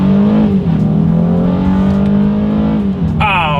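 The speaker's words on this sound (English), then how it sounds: "let's see how quickly we can get our new Ridgeline here up to speed" A 2022 Honda Ridgeline pickup truck pulls away hard from a standstill in manual shift mode, its engine drone loud and steady as the pitch climbs through the gears, with a brief high tone near the end.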